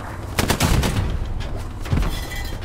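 Gunfire in the World War II shooter Hell Let Loose, with a few sharp rifle and machine-gun bursts crackling close, then another volley about a second later over steady battlefield noise.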